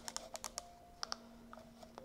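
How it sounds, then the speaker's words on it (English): Typing on a Wi-Fi computer keyboard, a quiet scatter of sharp key clicks in uneven bursts against faint background hum. "I'm using some Wi-Fi keyboard which is not so"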